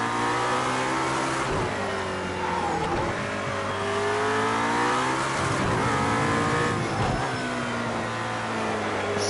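A race car in Project Cars 2 at Dubai accelerates hard, its engine note climbing loud and close through repeated gear shifts, with brief tire noise in a continuous, dense roar.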